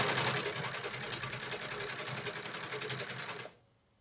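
A sewing machine with a side knife runs at a fast, loud, even hum while trimming the edges of hemp fabric for cloth diapers, then stops abruptly near the end.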